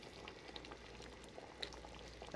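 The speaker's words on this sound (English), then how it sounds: "I have here some water boiling for the pasta eventually" Pot of water boiling on a stove for pasta, a faint continuous bubbling with small pops and gurgles, quiet and steady with no voices.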